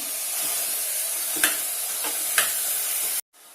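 Cowpea pods sizzle in a frying pan with tempering, broken by two distinct scrapes of a spatula stirring, before the sound cuts off abruptly.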